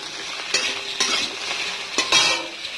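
Food being stirred in a pan, with a few distinct scraping strokes of a utensil over a soft sizzle, close and clear with no talking.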